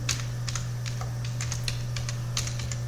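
Rapid typing on a computer keyboard, a run of crisp key clicks at an uneven rhythm, close and clear over a steady low hum with no talking.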